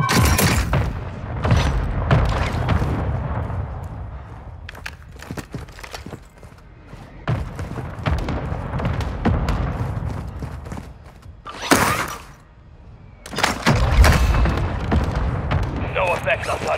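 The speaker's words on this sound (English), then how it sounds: "Mortar strike on the way" Mortar strike explosions in Warzone 2.0: a run of heavy booms and thuds over about seventeen seconds, some near and loud, with brief quieter gaps between volleys and occasional voices.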